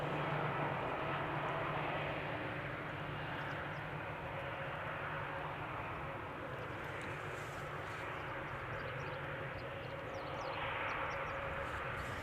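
Aircraft engines at Amsterdam Schiphol Airport, a broad, steady jet roar that stays loud and continuous throughout, with no voices.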